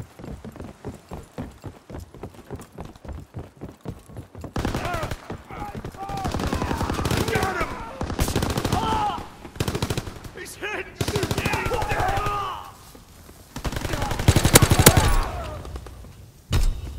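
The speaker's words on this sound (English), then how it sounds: "Heavy fire!" Sustained automatic machine gun fire in Call of Duty: WWII, loud bursts crackling in long runs with brief gaps, following quieter rhythmic tapping at the start, with voices calling out in the background.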